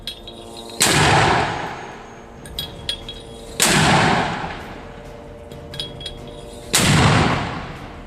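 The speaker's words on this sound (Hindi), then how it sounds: "हमास का दूसरा लड़ाका लॉन्चर में रॉकेट भर के ताबड़तोड़ तरीके से फायर करने लगता है।" A Hamas fighter fires rockets from a loaded launcher, three loud separate blasts a few seconds apart, each a sharp burst that swells into a long roar and fades, with faint clanks in between.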